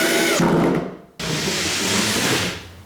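Power drill driving screws through a wooden ramp into the studs beneath, a loud close whirring burst that cuts out briefly, then kicks back in and runs steadily for over a second before tapering.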